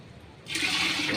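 Mineral water pours into a cooking pot for balbacua soup. A close, loud rushing splash begins abruptly partway through and continues steadily to the end.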